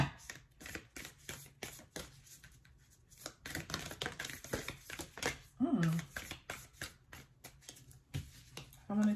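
Rapid papery riffling of tarot cards being shuffled, in several quick bursts with short pauses between, close and fairly quiet.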